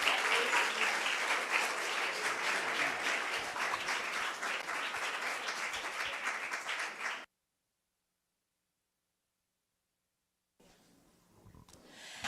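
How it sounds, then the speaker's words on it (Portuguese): Church congregation applauding during a service, a sustained crowd clapping at moderate loudness for about seven seconds, then silence before faint room noise resumes. "Dá uma salva de palmas para Jesus"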